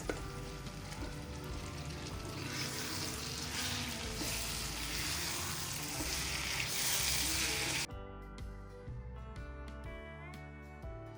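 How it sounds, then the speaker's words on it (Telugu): Mutton kheema sizzles and crackles continuously in a pan with occasional stirring, fairly quiet and close, before the frying cuts off abruptly and music takes over for the last few seconds. "తర్వాత ఇందులోనే మటన్ కీమా వేసి పచ్చి వాసన పోవాలంటే 3-4 నిమిషాలు మూత పెట్టకుండా కలుపుతూ ఉండాలి"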